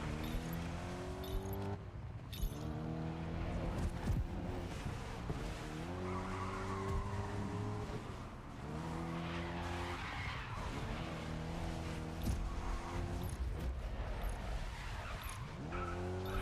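Cars skid with handbrake slides in the racing video game GRID Legends, repeated tire squeals over a revving race engine that keeps rising and falling, loud and continuous.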